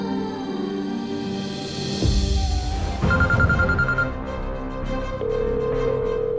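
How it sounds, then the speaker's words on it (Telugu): A phone rings with steady electronic tones that repeat and shift pitch over several seconds, set against a low background hum. "రింగ్ అవుతుంది."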